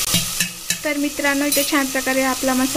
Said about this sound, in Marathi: तुम्ही बघू शकता इथे छान प्रकारे मस्तपैकी मसाला फ्राय झाला आहे